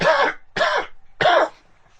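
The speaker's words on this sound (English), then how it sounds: "Excuse me, got a cough." A man coughs three times in quick succession, short harsh throat-clearing bursts close to the microphone with brief silences between them.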